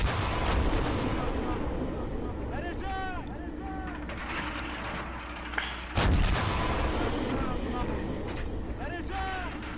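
Artillery shells boom repeatedly in Men of War: Assault Squad 2, heavy rumbling blasts and a sharp loud impact midway, mixed with battlefield noise and voices talking throughout.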